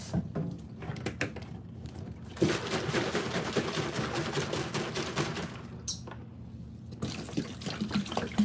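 Hot water runs from a tap to rinse a container, a loud steady stream splashing and gurgling for several seconds with brief pauses.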